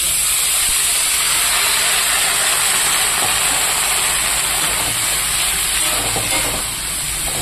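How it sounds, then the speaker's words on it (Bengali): Chopped mixed vegetables and onion fry together in oil, giving a loud, constant hissing sizzle like steam that holds steady throughout with no talking. "তো এই তেলে আমি ভেজে নেব, দিয়ে দেবো কেটে রাখা সবজিগুলো"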